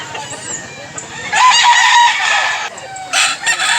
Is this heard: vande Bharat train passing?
no